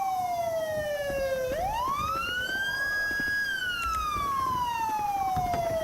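Police vehicle sirens in the FiveM game sweep up and down in a loud wailing pattern that fills the scene, with a brief exhale from a voice partway through.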